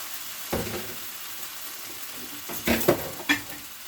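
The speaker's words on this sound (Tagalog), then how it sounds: "At haluin na po natin." Pancit canton noodles stirred in a pot, quiet sizzling broken by a few distinct scrapes and knocks of a utensil against the cookware, one early and a cluster of three near the end.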